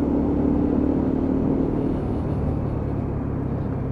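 A Lexmoto Venom 125cc motorcycle is ridden and pulled up through the gears, its engine a steady, fairly loud rumbling drone with a droning tone that shifts slightly partway through, heard close with no talking.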